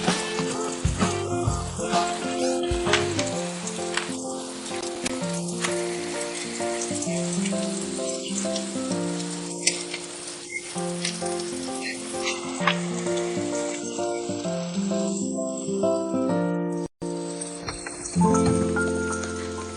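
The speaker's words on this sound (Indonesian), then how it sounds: "Aku tahu hujan sangat deras." Heavy rain pours in a steady, hissing wash beneath sustained music throughout, with no speech.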